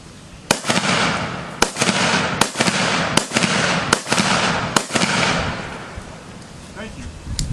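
An 8-round clip rifle fires at a historical demonstration, giving six sharp, loud cracks spaced roughly a second apart, each followed by a short echoing tail, with a voice speaking faintly between the shots.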